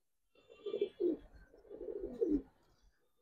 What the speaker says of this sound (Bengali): এটা সিলভার কবুতর আর কি